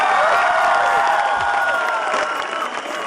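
A concert crowd applauds and cheers at a show, a dense, loud, sustained roar of clapping and shouting that gradually eases off toward the end.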